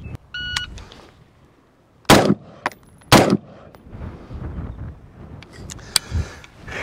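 Two loud, sharp rifle shots crack about a second apart at an outdoor range, from a Sig SPEAR LT or Geissele Super Duty rifle, with quieter handling clicks and brief electronic beeps around them.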